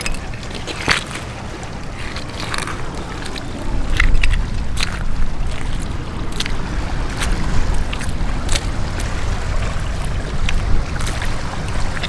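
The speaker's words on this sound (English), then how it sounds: "Let's go and give it a rinse." River water splashes and sloshes as a mudlarking find, a small clay pipe, is rinsed at the water's edge, with irregular sharp splashes over a steady outdoor wash of wind and lapping water.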